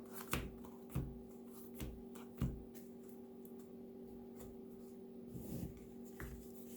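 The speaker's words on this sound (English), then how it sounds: "And we'll draw our 5 cards." Trading cards from a Yu-Gi-Oh Thunder Dragon deck are drawn one at a time, giving a handful of soft, sharp card snaps and slides spaced about a second apart over a faint steady hum.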